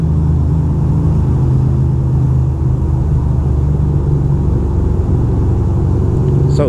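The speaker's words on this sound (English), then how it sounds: "So easy to zone out in the tunnel just cruising like this" A car cruising slowly in first gear through a Manhattan tunnel, a loud, steady low engine and road rumble that fills the enclosed space with little change in pitch.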